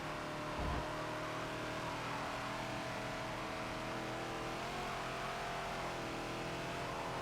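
A Ford Falcon XB racing at Maple Valley in Forza, its engine droning and revving steadily with shifting pitch, sustained and fairly near, no talking.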